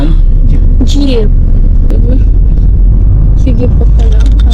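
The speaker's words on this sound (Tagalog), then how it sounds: "Jeep." A jeep engine rumbles steadily nearby on a street in Albay, its low drone constant under people talking close by.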